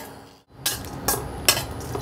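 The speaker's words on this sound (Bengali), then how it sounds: "রসুন আর কাঁচা হলুদ একটু ভাজা হলো" Garlic and raw turmeric fry in a pan, a soft sizzle broken by a few sharp clinks of a utensil stirring against the metal.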